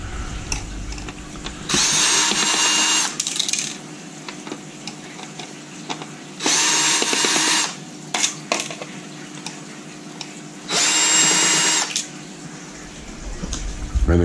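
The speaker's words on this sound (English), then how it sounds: "now I'm just going to unscrew three screws" A power screwdriver backing screws out of a hard drive being scrapped, three loud whirring bursts of about a second each separated by quieter handling clicks, close to the listener.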